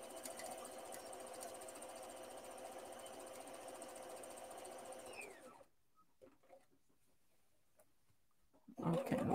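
A sewing machine hums steadily and close while free-motion embroidering a shirt collar, then stops, leaving quiet before a short burst of noise at the end.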